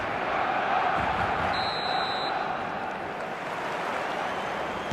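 Stadium crowd in eFootball 2026 roaring in a continuous dense wash of cheering, steady and enveloping with a brief whistle-like tone early on.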